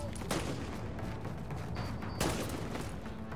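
Sniper gunfire in the video game The Division: two sharp cracking shots about two seconds apart over a dense, continuous wash of game noise.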